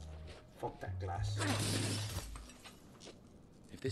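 Glass shatters in the video game Dead Island 2, one loud crash with scattering shards over about a second, amid low game noise and a voice.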